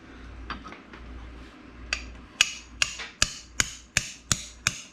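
Sharp metallic hammer blows, about seven strikes in a steady rhythm, close by, after a few softer knocks over a low background rumble, while installing an AMC 304 engine into a CJ5 Jeep.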